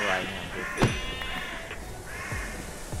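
A few short sheep bleats from Minecraft sound among other noises, brief and moderately close, with a person talking over parts of it.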